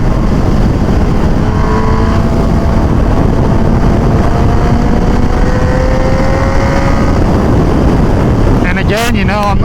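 A Suzuki GSXR motorcycle at speed gives a loud, constant rush of wind buffeting over a steady engine drone, heard from the rider's position, with a brief voice breaking in at the very end.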